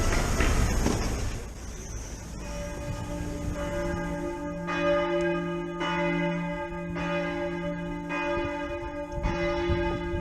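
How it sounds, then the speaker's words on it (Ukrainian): Church bells strike noon beside the town hall on the central square in Meissen, a series of resonant, evenly spaced tolls ringing out clearly over a quiet outdoor background, with each stroke's hum lingering into the next. "Дванадцята година, полудень, б'ють дзвони."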